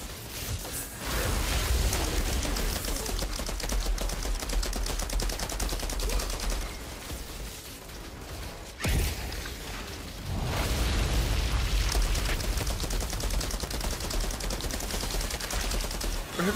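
Outriders video game gunfire sounds as sustained rapid automatic fire, dense and loud, with a brief lull partway through before the shooting resumes just as heavily.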